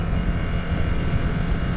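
Ducati Scrambler Desert Sled 2021 motorcycle engine revving on a test ride, a steady loud roar with heavy wind rush and no voices over it.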